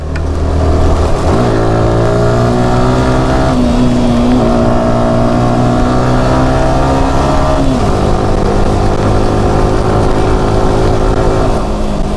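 A motorbike ridden in the rain in Dehradun gives a steady, loud engine drone that rises and falls in pitch as the rider changes speed, close and continuous with no talk.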